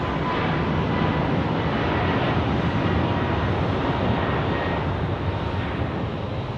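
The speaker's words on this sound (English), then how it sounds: "An American snuck through on the A321neo." An American Airlines Airbus A321neo at Phoenix Sky Harbor gives off a continuous, loud jet engine roar, steady and close, with no voices over it.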